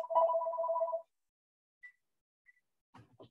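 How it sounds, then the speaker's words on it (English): Phone ringing indoors in a classroom or lecture setting: a single loud electronic ring burst of about one second, then silence with a couple of faint beeps and brief sounds at the end. "Put that phone off."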